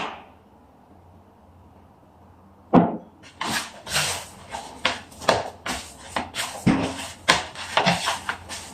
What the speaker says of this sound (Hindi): आटा गूंद, जैसे आटा गूंदते वैसे इसको गूंद लेंगे।